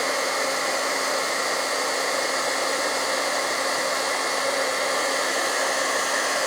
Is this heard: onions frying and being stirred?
no